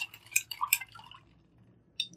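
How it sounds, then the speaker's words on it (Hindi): Pomegranate and sugar sharbat is stirred in a jug, and bright clinks and liquid sloshes come in quick bursts. After a short pause, one last clink follows, all close and fairly quiet. "अब अच्छे से हम इसको मिक्स कर देंगे।"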